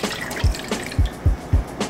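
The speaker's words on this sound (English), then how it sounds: "There's 4 cups of water going in." Water goes into a cooking pot for Korean spicy rice cakes, heard as several short, evenly spaced glugging splashes, about four low thumps in under two seconds, close and moderately loud, with no speech.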